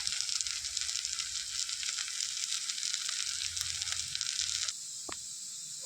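Masala heating in a pan for a pepper fish roast gives a steady close sizzle and crackle that drops to a softer hiss near the end, with a brief clink.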